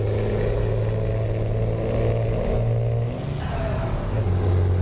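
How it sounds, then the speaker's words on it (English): A truck engine, the standard version 4 engine in a truck driving video game, revs and accelerates with a steady droning hum that dips briefly and then climbs again, loud and close with no talking. "this is the new standard version 4 engine"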